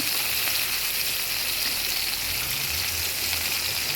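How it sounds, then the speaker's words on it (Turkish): Close, steady sizzling of peppers frying in a hot pan, a continuous crackling hiss with no voices. "Biberlerimi kızarttım."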